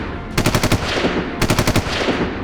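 Two short bursts of rapid automatic gunfire from a sound effect, each a quick string of sharp cracks, are heard loud and close.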